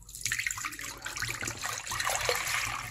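Whole milk from a carton pours into a saucepan, a steady close splashing and gurgling stream that keeps running throughout with no talking.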